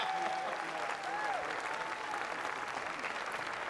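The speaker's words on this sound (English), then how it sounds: "a nice round of applause for all of your performers here" Steady crowd applause for the band performers at a Hawaii governor's inauguration ceremony, a dense continuous patter with a faint voice briefly audible underneath.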